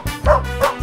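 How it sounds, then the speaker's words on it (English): A dog bark, two quick close yips or woofs in under a second, fairly loud and alone without talk. "Dog."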